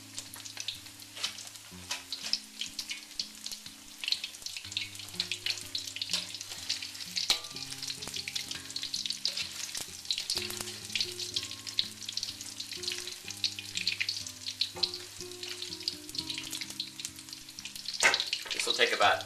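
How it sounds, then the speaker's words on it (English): Pre-fried chicken goldfingers crisp up in hot oil, a dense, steady sizzle and crackle running throughout with occasional utensil clinks and background music underneath. "The oil is hot, and I'm going to put all the Goldfingers that we pre-fried into the oil"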